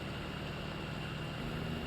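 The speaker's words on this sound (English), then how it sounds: "That engine just fucking singing away." Gerlinger G500 Clydesdale truck engine in SnowRunner, running in high gear while hauling a heavy load off-road, a steady droning rumble held at constant revs throughout, alone and close.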